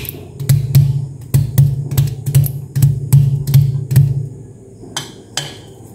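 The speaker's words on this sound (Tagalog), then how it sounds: "Dik-dik lang ako ng bawang and prito na ng egg." Garlic being crushed in a mortar with about a dozen sharp, evenly spaced pounding thuds over four seconds, followed by a pause and two lighter knocks.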